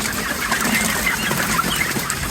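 Thousands of broiler chickens crowd a dark commercial chicken house, producing a steady, dense wash of overlapping clucks and murmurs that never lets up, close and fairly loud throughout.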